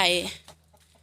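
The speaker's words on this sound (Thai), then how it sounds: "ตัวนี้สิเป็น ไก่ไข่เด้อค่ะเด้อ" Laying hens at a rural Thai farmstead give a short, close cluck burst at the start, then fade to faint scattered sounds with a steady low hum underneath.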